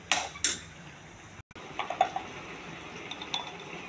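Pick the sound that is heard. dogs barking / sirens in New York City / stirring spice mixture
stirring spice mixture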